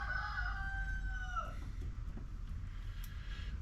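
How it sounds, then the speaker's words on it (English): A rooster crows once from a neighbor's backyard, a faint, distant cock-a-doodle-doo lasting about a second and a half over steady low background rumble. "Got a rooster and the neighbors in the backyard"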